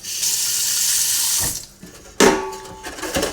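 Water pours from a tap into a pot of lye, a close, bright gush that stops briefly, then starts again with a sharp splash, with no voices.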